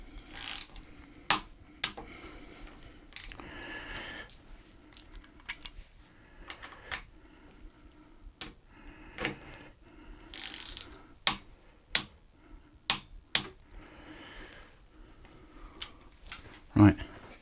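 A ratchet torque wrench tightens bolts on bicycle handlebars, giving scattered sharp clicks and short ratcheting bursts close by over a quiet background hum, with brief speech between them.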